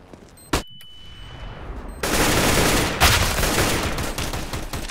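Gunfire from the game CS:GO during a matchmaking round: a single sharp shot early on, then from midway a dense, continuous barrage of rapid shots with a loud burst near the end, all close and heavy.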